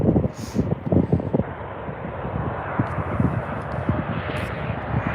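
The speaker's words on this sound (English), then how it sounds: "Here comes the CRJ." A CRJ 700 regional jet arriving at Dallas/Fort Worth airport in the early morning: a steady, broad engine roar at moderate distance, mixed with gusty wind rumble on the microphone, with no talk.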